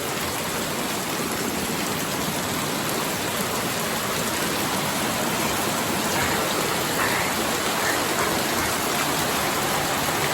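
Heavy summer rain pours steadily and loudly on a banana plantation, a dense unbroken hiss of water that fills the whole clip with no voices.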